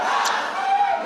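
Rowdy crowd shouting and yelling at a Chicago city meeting on the migrant crisis, a dense, continuous roar of many voices filling the room without pause.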